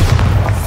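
A Bombarda spell explosion in the Hogwarts Legacy video game, a loud, deep booming blast that rumbles briefly, with no speech.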